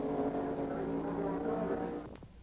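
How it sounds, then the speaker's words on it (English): A Ferrari race car at the 1957 French Grand Prix at Reims, trailing blue smoke, accelerates back out of the pits after a quick stop. Its engine gives a loud, steady roar that thins out briefly near the end. "After a rapid pit stop, he accelerates back into the race once more."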